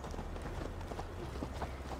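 A horse gallops in Assassin's Creed Valhalla, its hoofbeats a steady, rapid clip-clop that stays fairly faint and muffled, with no voices over it.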